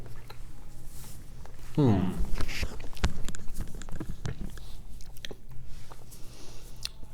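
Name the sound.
eating Oreo-like cookies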